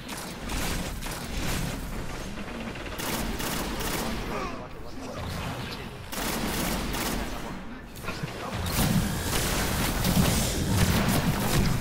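Gunfire in the shooter game Destiny, aimed at a teammate: rapid, dense volleys of shots and booms that keep going for the whole stretch and grow louder and heavier toward the end.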